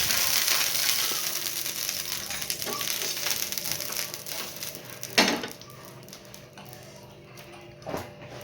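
Oil poured onto a hot griddle for dhirde lets out a bright, hissing sizzle that slowly fades, broken by a few sharp clicks or taps.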